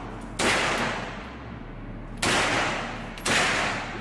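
Real firearms fired during shooting practice: three sharp, loud blasts spaced a second or two apart, each with a decaying echoing tail, and no talking.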